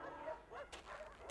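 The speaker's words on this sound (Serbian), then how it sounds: "Glupi psi." Sled dogs yipping and barking in the snow, close by, in a short string of bursts with no talk.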